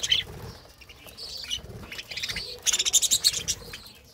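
Small caged birds chirp in quick bursts while eating water spinach, with a rapid run of bright tweets near the end and faint rustling between calls.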